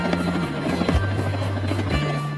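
A Dutch CH-47 Chinook helicopter during sling load training throbs with a loud, steady rotor drone and low pulsing beat, close and continuous throughout.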